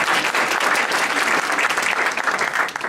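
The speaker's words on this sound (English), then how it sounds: "Round of applause." Dense, steady audience applause from a room of health and social care staff, many hands clapping at once and sustained at even loudness for the whole stretch.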